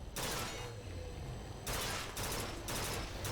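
Rapid gunfire from the video game Bioshock Infinite (Burial at Sea), a loud sustained burst of shots with brief pauses between volleys, no talk over it.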